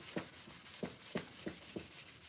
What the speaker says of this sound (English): so we got it sanded. This is just smoothing out the paint.